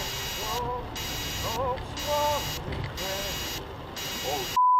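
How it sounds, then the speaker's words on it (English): A repeating electronic buzzer pulses on and off in regular bursts while people talk over it, ending with a steady tone. "That sounds like a flooding alarm."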